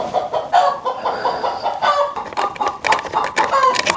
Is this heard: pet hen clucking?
yes